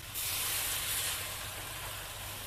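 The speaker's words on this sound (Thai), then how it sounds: "เติมน้ำค่ะทำน้ำแกง" Water poured into a hot wok of chicken and curry paste for a jungle curry sets off a sudden loud, steady steam hiss that holds close and constant, with no talking.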